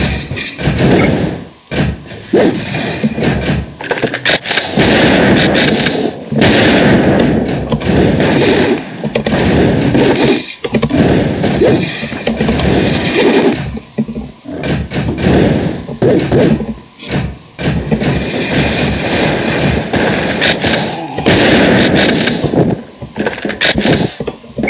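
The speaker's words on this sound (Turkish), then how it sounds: "Çok hızlı top atıyor." Cannon fire in a video game comes as loud, rapid, repeated booming blasts and thuds packed densely over a continuous roar of gameplay noise.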